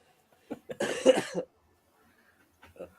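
A single harsh cough burst rings out close by, with a few short throat sounds before and after, otherwise quiet.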